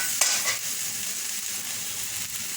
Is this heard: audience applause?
no